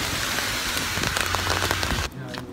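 Steady rain falls at Ashikaga Flower Park in Japan, a dense outdoor hiss with scattered drops close by, loud and continuous before it drops to a quieter patter near the end.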